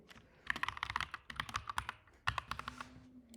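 Password being typed on a computer keyboard: two quick bursts of crisp, close key clicks with a short pause between them, and no talking.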